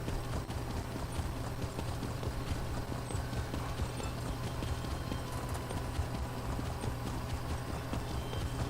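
Steady clip-clop hoofbeats of a horse mount in Elder Scrolls Online, a continuous rhythmic trot of hooves over a low background rumble, close and even for the whole stretch.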